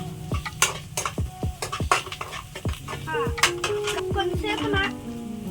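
Egg fried rice stirred in a pan, with repeated scraping and clinking strokes of a metal spoon against the pan over a light sizzle, in a steady rhythm, while a voice briefly talks.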